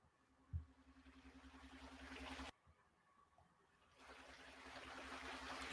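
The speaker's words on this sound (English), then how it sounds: "let me see how it sounds to you all when I start the little water track" Recorded water sound track playing: a broad, steady rushing wash that cuts out abruptly and then resumes after a brief quiet gap, fairly faint and without talk.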